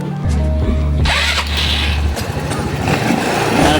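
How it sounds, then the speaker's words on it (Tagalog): A Motorstar Easy Ride 150 motorcycle cranks with a low steady churn, then catches and settles into a loud, close, rough idle with rattling mechanical noise. "ngayon susubukan na natin ang unang andar na itong Motorstar Easy Ride"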